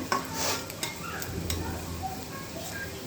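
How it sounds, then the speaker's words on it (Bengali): Onion fries lightly in a pan while being stirred, a soft sizzle broken by a few scraping clicks of the utensil, quiet and close. "যখন পেঁয়াজটা হালকা এরকম করে ভাজা হয়ে যাবে"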